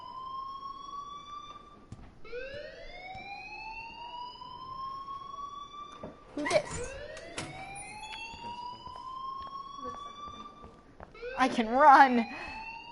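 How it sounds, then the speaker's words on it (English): A wailing alarm in the Life is Strange video game rises and falls in repeated long sweeps, with game voices speaking over it and a louder burst near the end. "please turn off that alarm since that's your job"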